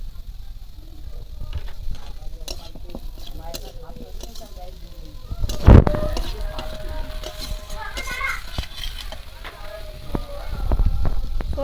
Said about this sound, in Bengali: আলু আর পেঁয়াজ সব একসঙ্গেই ভাজা হয়ে যাবে